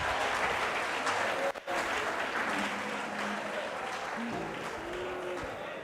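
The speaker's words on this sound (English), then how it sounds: "Now a round of applause to my" A hall full of people applauding at a wellness symposium, dense continuous clapping with a momentary dip partway through, while faint voices and a cheer rise briefly beneath the crowd noise.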